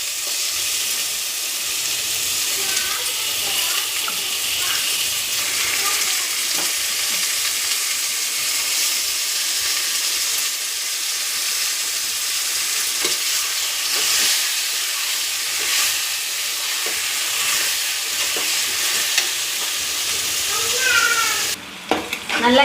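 Chicken pieces stir-fried in a pan with tomato, green chilli, ginger and garlic, giving a steady loud sizzle and hiss, with scraping stirring noises and a clatter near the end.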